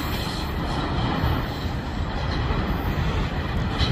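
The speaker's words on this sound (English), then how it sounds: "And as you see the train curve to the right," A steady, loud rumble of a train rolling past on the CN Dundas subdivision at Bayview, a broad roar that holds evenly throughout.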